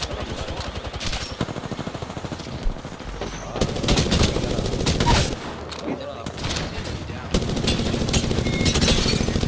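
Automatic weapons in Apex Legends fire in dense, rapid strings and shorter bursts, loud and close throughout, with brief pauses between volleys and a voice talking over parts of the firing.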